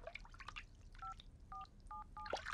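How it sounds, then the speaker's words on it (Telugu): A telephone number is keyed in during a film scene: four short paired dial tones sound in a quick uneven sequence, close and clear, amid faint liquid-like clicks. "ప్రియా, వేరే నెంబర్ ఫోన్ చేయి."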